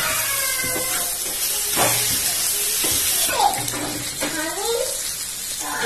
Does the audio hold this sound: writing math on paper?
no